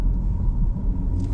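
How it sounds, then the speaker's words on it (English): Low, steady rumble of cars on a busy street in New Rochelle, New York, beside a hospital, with a continuous close engine and road drone and a faint rise of passing traffic toward the end, no talking. "There's a busy street right here"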